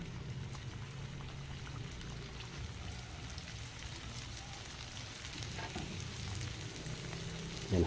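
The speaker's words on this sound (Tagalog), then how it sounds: "Ready na po tayo para magprito nito." Beef skin chicharon deep-frying in hot oil, a steady dense sizzle and bubbling that holds evenly throughout and swells slightly toward the end, with no talking.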